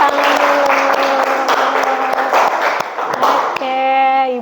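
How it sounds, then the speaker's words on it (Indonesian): A classroom audience claps steadily for several seconds, dense applause with sharp individual claps, before a voice starts speaking over the last stretch. "kasih tepuk tangan dulu"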